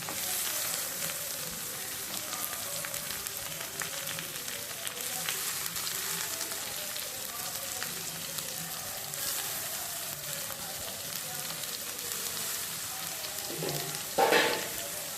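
Onions and green chillies sauté in a pan for prawn gravy, a continuous close sizzle with faint scraping stirs and one sharper clatter near the end.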